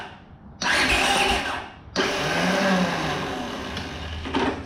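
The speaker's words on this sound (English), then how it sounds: "So the starter's just spinning. Oh, there we go, it engaged that time." A truck starter motor whirs loudly for about a second, pauses, then whines again and catches, its spinning drone carrying on steadily, close and without any talking. The truck is a burnout car build.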